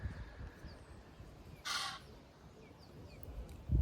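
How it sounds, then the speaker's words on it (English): Outdoor bird call, a single harsh honk or caw heard at moderate distance against quiet ambient background, with a low thump near the end. "No, I think it was a goose."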